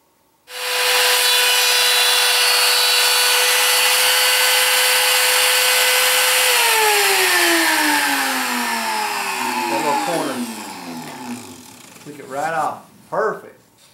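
A power tool whines steadily as it cuts a circle in wood for a Land Cruiser sound system upgrade, its pitch dropping as the cut finishes and winds down, followed by a few brief rattling bursts.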